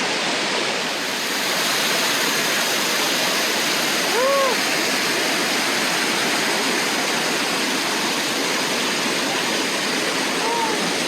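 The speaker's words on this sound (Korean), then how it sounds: "폭포가 여기 밑에서 흐릅니다" Waterfall flowing beneath a walkway over a lake, a loud continuous close roar of rushing water that stays steady throughout, with a brief bird chirp rising above it once or twice.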